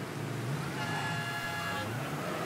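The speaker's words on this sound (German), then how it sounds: "Hör auf zu hupen, Mann." A car horn honks in the video game Mafia III, a steady tonal blare over a continuous driving rumble with no talk.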